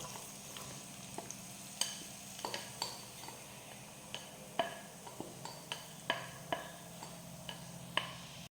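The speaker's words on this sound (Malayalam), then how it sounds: "എണ്ണ നല്ലതുപോലെ ചൂടാവുമ്പോൾ നമുക്കതിലേക്ക് ഇഞ്ചിയിട്ട് വറുത്തെടുക്കാം" Ginger fries in hot coconut oil for a Kerala inji curry, giving a low steady sizzle punctuated by sharp ticks and taps of a spoon stirring in the pan, close and fairly quiet with no talking.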